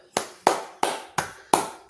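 Five sharp claps spaced about a third of a second apart, close and crisp, each with a quick decaying tail, heard alone with no voices.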